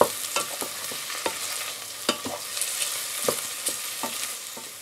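Onions frying in a pot for a tomato vegetable soup, a continuous sizzle broken by repeated scraping strokes of a spoon against the pot, close and clear with no talk.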